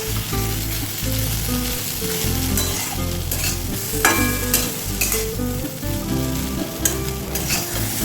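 Bitter gourd and potato pieces fry in a pan with a dense, continuous sizzle, close and fairly loud, while stirring adds scraping and shuffling textures throughout.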